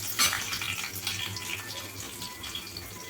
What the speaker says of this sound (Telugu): కలర్ వచ్చిందాక వేగాలి.